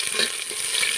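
Chopped onions hit hot oil already holding bay leaf and dried red chilli for a bitter gourd masoor dal, giving a loud, continuous frying sizzle with brief stirring scrapes, close and without talk.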